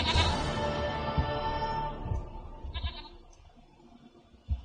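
In The Witcher 3, a goat lets out a loud, wavering bleat that fades over a couple of seconds, followed by quieter shuffles and a sharp thump near the end.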